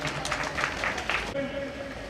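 A crowd at a Jain religious vidhan ceremony gives a short burst of clapping that fades after about a second, followed by someone speaking over a microphone.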